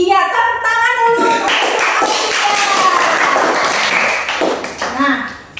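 Students in a classroom clap their hands together in a short burst, led in by a teacher's voice, with talking over and around the loud, close clapping that fades out near the end.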